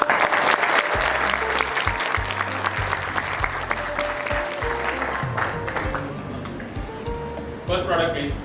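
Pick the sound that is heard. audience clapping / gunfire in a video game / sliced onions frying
audience clapping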